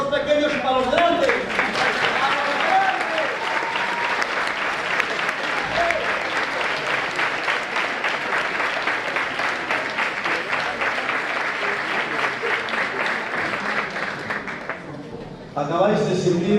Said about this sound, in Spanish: yo pido aplausos para los pequeños y para los grandes